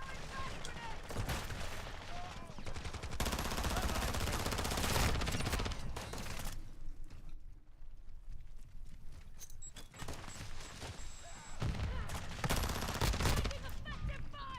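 Sustained gunfire from Call of Duty Modern Warfare II, dense bursts of automatic fire rising and falling with a brief lull midway, loud and close with other combat noise.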